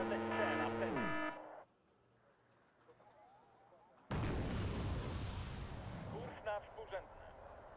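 Artillery explosions in a real-time strategy video game, a heavy rumbling blast surge after a quiet gap, followed by smaller pops and crackles, with a voice talking over part of it.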